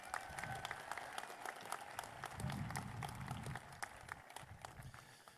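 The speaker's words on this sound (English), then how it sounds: "Please give them a round of applause." Steady applause from a large crowd at a high school graduation, dense clapping that holds at an even level throughout with a faint murmur of voices.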